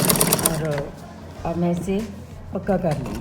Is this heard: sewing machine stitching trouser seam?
yes